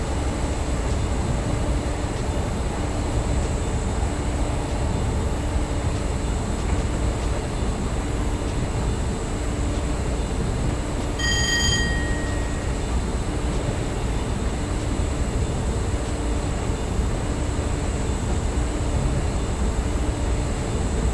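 A train runs in Train Simulator 2022 on an older route, giving a steady low rumble with a constant hum and a faint rhythmic clatter, plus a brief high tonal chirp partway through.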